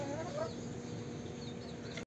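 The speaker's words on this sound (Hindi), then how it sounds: "सील मुर्गी देखे किस तरह शोर कर रही है" An Aseel hen released from its cage clucks and fusses continuously at close range, with steady farmyard noise underneath.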